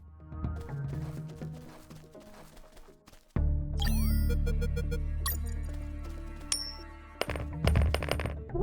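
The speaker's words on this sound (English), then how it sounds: "Hey, a coin." A coin drops onto the ground in the UnMetal stealth video game, a single bright metallic clink over game music.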